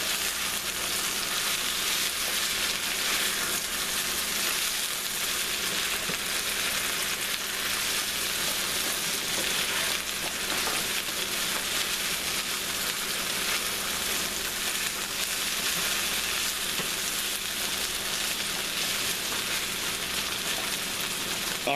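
Okra sizzles and fries in a pan over medium-high heat with a dense, steady crackling hiss that holds at an even level throughout, with no voices.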